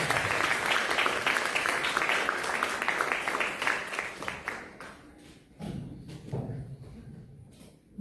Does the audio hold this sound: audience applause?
yes